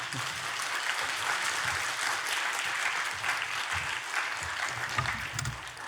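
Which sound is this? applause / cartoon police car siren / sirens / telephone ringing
applause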